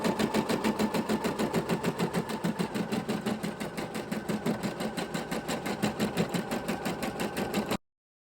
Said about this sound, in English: sewing the ear to the side piece and the foot to the side piece as well